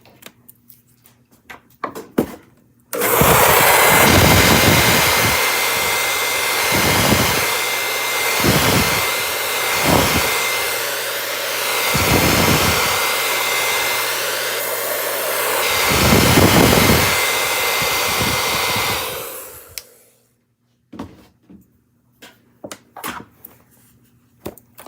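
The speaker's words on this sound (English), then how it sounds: "I'm going to dry it off again" A hair dryer drying stencil paste on a damask tree pattern roars loudly and steadily for about seventeen seconds. The airflow swells slightly as it moves, then cuts off, leaving quiet handling sounds before and after.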